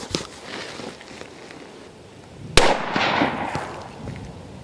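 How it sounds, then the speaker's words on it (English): A single sharp 6.5 Creedmoor rifle shot cracks loudly mid-clip, followed by a short echoing decay over faint outdoor background. "Now I'll go ahead and shoot."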